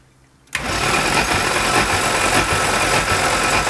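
An engine cranking on its starter during a compression test, clutch pressed and throttle held wide open: a half-second of quiet, then an abrupt start into a loud, steady, buzzing whir that runs unbroken to the end.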